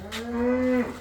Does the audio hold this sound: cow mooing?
yes